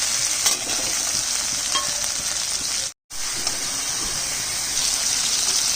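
Tomato and spices fry in a pan with a loud, continuous sizzle and hiss, broken by a brief moment of silence before the frying resumes at the same steady intensity.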